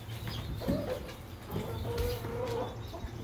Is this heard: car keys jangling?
no